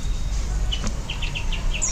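Caged birds, cucak biru and jalak among them, give short, bright chirps in a quick series near the end, against a low background rumble.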